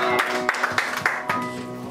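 A church congregation in Seoul claps together in praise of Jesus Christ, rhythmic hand claps ringing out over sustained music in a reverberant hall.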